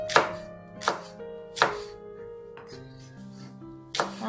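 A knife chops through okra on a cutting board, about 300 g in a home kitchen, with five sharp, distinct chops spaced unevenly and heard up close without talk.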